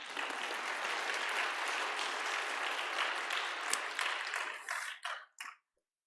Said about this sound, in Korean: 그래서 이제 박수 한번 쳐주세요.